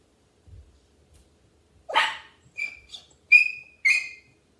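A crated dog with separation anxiety gives several short barks and yips, sharp and fairly close, separated by brief silent gaps.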